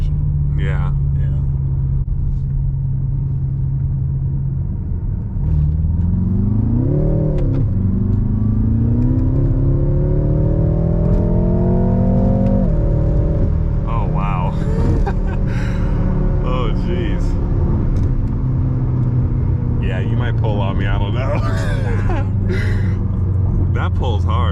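Stage 1 tuned F12 BMW M6 accelerating hard from inside the cabin, a loud steady engine drone rising in pitch through gears, with people talking over it.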